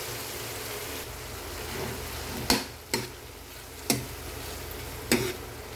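Corned beef sizzles with tomatoes in a frying pan, a steady moderate crackle broken by four sharp clicks of a utensil knocking against the pan, no speech.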